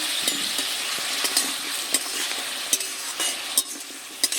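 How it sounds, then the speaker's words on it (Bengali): Pointed gourd and prawns being stirred and fried in a pan: a steady sizzle runs under repeated scraping and light clinks of a utensil against the pan, with no voices. "নেড়ে চেড়ে এবার একটু কষিয়ে নেব"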